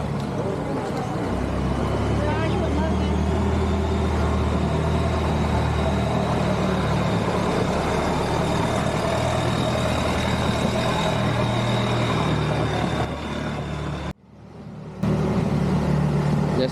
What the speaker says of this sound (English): so the cruise boat's going by